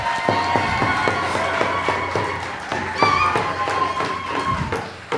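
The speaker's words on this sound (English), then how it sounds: "All right, everyone give Louisa a big round of applause." An audience claps for a child named Louisa, a continuous, fairly loud round of applause with rhythmic thumping beats and some cheering mixed in, filling the room from start to finish.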